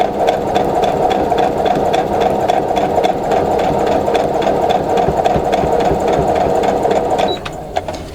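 A sewing machine stitches a quarter-inch seam joining a row of nine-patch quilt blocks, running steadily and close for about seven seconds before slowing and stopping near the end.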